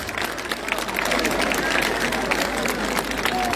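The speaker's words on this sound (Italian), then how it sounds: "lui che si merita un caloroso applauso da parte vostra" Warm applause from an outdoor festival crowd in Bitzi at the Santu Giorgi feast evening concert, steady dense clapping mixed with crowd chatter, moderately loud throughout.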